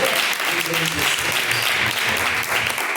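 Steady applause from a church congregation fills the whole stretch, dense clapping with faint voices mixed underneath.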